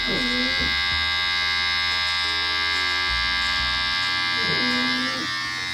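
Electric razor buzzing steadily while shaving a man's head during a home haircut, using only the top corner of the blade; a close, continuous hum whose pitch shifts slightly as it moves through hair.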